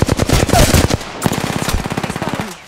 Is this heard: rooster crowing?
no